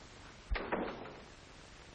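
A door swings shut with one firm thud near the start, followed by a brief rattle and settling, alone in a quiet room.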